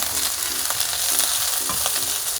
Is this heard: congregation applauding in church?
no